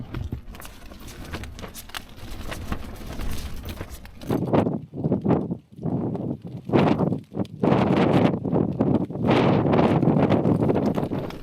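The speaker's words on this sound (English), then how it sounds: "The wind is not quite as strong as it was, but every now and again there's a big gust." Gusty wind buffets a campsite during freezing rain, rushing in uneven surges that swell and drop over several seconds, close to the microphone with rustling mixed in.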